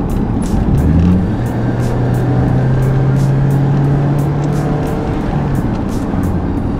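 Honda Odyssey RB1 minivan engine droning steadily as it drives and picks up speed, a sustained low hum with a rising tone midway, heard from inside the cabin with road noise throughout.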